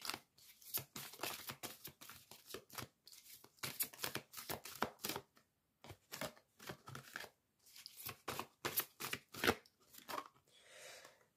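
A deck of self-healing oracle cards being shuffled during a tarot reading, a close, quiet series of riffling bursts with short pauses between, ending in a softer rustle, with no speech.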